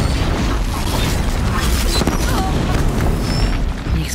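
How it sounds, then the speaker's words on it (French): A heavy, sustained explosive rumble from the video game Horizon Zero Dawn, loud and dense throughout with a low roar and crackling debris, while someone speaks French over it. "Une explosion."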